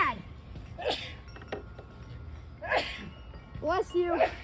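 Two sharp sneezes burst out indoors, about two seconds apart, while a thunderstorm with strong wind hits the house; people talk quietly around them.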